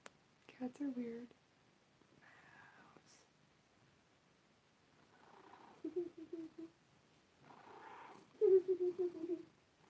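An old pet cat purrs in soft pulsed bursts, quiet and close, in several separate rumbling stretches between hushed whispering from a person nearby.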